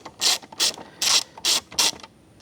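A ratchet wrench turns out a cover screw during an oil change, five even bursts of rapid pawl clicking, close and fairly loud, with short pauses between strokes.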